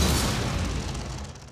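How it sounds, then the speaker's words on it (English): A dense run of booming explosions from the video game Prey: Mooncrash, loud and close, the blasts running together into one rumbling burst that slowly fades. "It was rather a lot more of explosions than I was expecting."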